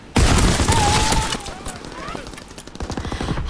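Loud Call of Duty WWII gunfire opens with a sharp shot, then ragged bursts and scattered cracks follow amid battle noise, with a voice speaking over part of it.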